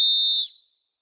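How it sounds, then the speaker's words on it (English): A Fox 40 safety whistle gives one piercing, very loud shrill blast about half a second long, cutting off sharply with a brief ringing tail. "Fox 40, they make really good whistles, which are extremely loud"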